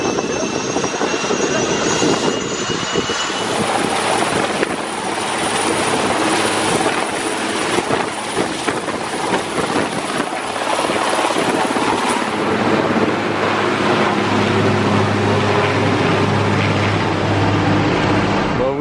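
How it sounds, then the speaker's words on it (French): A helicopter engine starts up near a car delivery site, its turbine whine rising and settling into a loud sustained roar with rotor thrum, joined by a deeper steady drone in the last seconds. "ils vont redémarrer l'hélico"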